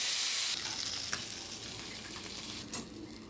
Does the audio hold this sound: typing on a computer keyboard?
no